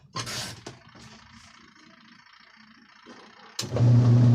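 After faint rustling, a Sharp Giga washing machine, just repaired after being noisy and weak, starts up with a rising whirr and settles into a steady, loud mechanical hum.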